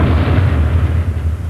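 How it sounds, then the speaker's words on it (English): A gun firing a shell gives a loud, heavy boom with a deep low rumble that fills the whole stretch, dense and sustained rather than a single crisp crack. "describing what happens when a gun fires"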